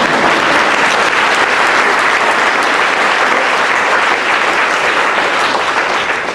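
Loud, dense applause from a political event audience for a canvass team, an even wash of many hands clapping that holds steady throughout.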